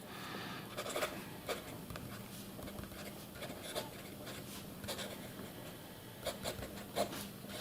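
Soft scratching strokes of a Muji fountain pen across paper, close up, coming in short bursts with quiet pauses between.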